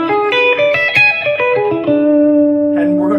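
Steel guitar lick played around the 5 chord, a run of sustained, sliding bent notes outlining the chord tones, heard up close with effects-laden tone and no voices over it.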